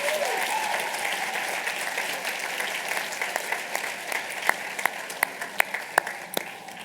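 Audience applause at a Harvard Medical School class day ceremony, a large crowd clapping steadily at a moderate distance, with some sharper individual claps standing out as it fades.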